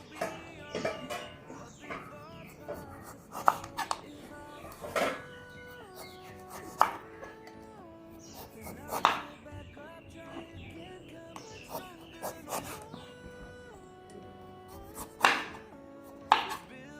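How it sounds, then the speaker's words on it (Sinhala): A knife repeatedly scrapes and cuts through a tough rind in uneven strokes, with sharp thuds as it hits the board, close up. "අපි ලබු ගෙඩිය මෙන්න මේ විදිහට පොත්ත අයින් කරගන්නවා."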